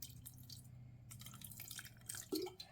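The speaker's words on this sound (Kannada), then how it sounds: "ಇನ್ನು ಸ್ವಲ್ಪ ನೀರು ಆ್ಯಡ್ ಮಾಡ್ಕೊತಾ ಇದ್ದೀನಿ" Water trickles and drips into semolina roti dough being mixed by hand, faint and close, with small wet squishes and a slightly louder splash near the end.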